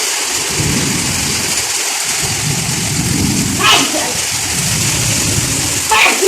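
Heavy rain in Bahrain pours steadily with low rumbles of thunder, and voices murmur faintly beneath the downpour.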